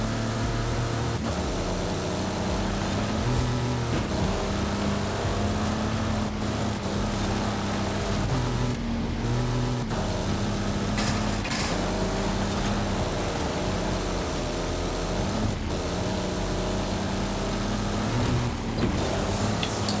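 A deep, throaty Nissan Safari engine in Forza Horizon 5 drones continuously, its pitch rising and dipping as it revs, loud and close with no talking.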